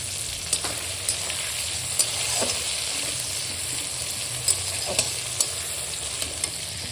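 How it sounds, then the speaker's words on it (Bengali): Pabda fish frying in oil for a mustard curry, a constant close sizzle with occasional sharp crackles and pops, no talking. "সেগুলো ফ্রাই হচ্ছে ওগুলো পাবদার ফ্রাই মানে ভাজা আছে"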